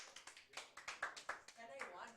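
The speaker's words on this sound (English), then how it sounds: "Give him a round of applause" A classroom applauding, quick uneven claps from a small group in a short burst, faint and somewhat distant.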